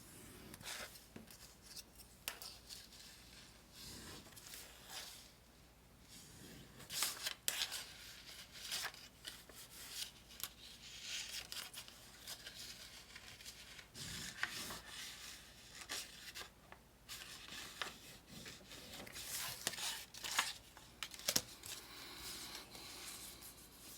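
Soft scraping and rubbing as a handmade folding tool creases paper glue tabs on a skinned frame, a string of quiet strokes and taps close up, with no one talking.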